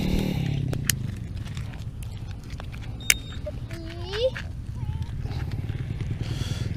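A motorcycle engine rumbles steadily close by at a riverside fishing spot in Yan, Kedah, Malaysia, with occasional clicks and clatter and faint outdoor background noise.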